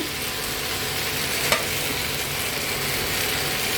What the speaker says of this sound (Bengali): তো ভেজে রাখা বাদামগুলো মিশিয়ে দিচ্ছি